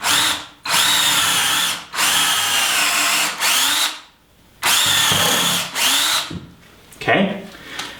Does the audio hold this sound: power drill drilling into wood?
yes